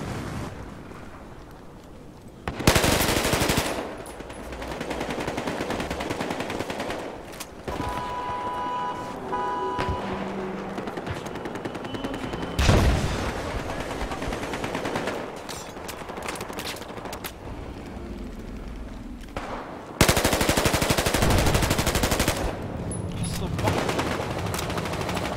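Automatic and single gunfire bursts from the video game Battlefield Hardline, loud and repeated in several clusters with short gaps, close and punchy, with occasional faint talk underneath.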